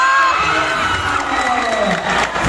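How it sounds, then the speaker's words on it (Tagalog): Loud, sustained cheering and high-pitched shouting from a crowd at a local Ambolong versus Poblacion basketball game, whoops rising over a constant roar that fills the whole stretch, with a little talk beneath. "What a crowd! What a shouting!"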